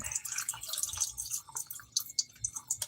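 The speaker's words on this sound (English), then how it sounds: "So I'm going to pour the water out." Water being poured out of a container of double-washed chitterlings, heard as a close run of irregular splashes and drips lasting a few seconds, with no talking.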